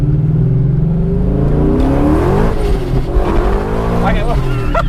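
A supercharged S62 engine in a crashed BMW E39 M5 revs hard and climbs quickly through the rev range, loud and close from inside the car, a rising whine, with speech mixed in.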